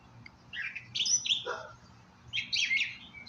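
Birds chirp outdoors on a quiet morning, a few short high tweets and calls in two brief bursts over a low background hum.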